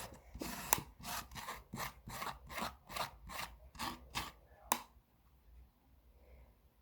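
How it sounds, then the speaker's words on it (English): A small wooden treasure chest is smoothed down by hand, heard as about ten close, rhythmic rasping strokes that are soft and even in pace. The strokes stop, and a near-silent pause follows. "So just if you can hear the sound, just smoothing that down."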